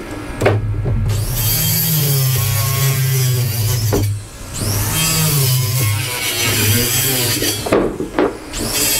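A power saw cuts wooden joists to length in about three loud passes, each a whining buzz with rough wood-grinding noise and brief pauses between the cuts.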